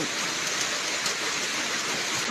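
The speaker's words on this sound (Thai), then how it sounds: "ฝนมาแบบมากงามคักค่ะมือนี้ฝนตกงามคัก" Heavy rain falls steadily and loudly, a dense, unbroken hiss of downpour drumming on surfaces close by throughout.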